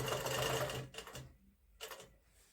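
A Handiquilter longarm quilting machine stitches a winter star wall-hanging. A close mechanical whir runs for about a second, then comes in two short bursts with quiet pauses between them.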